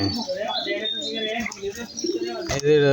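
A Sirazi pigeon, a kind that does not fly, coos softly and steadily beneath close, continuous talking by a person nearby.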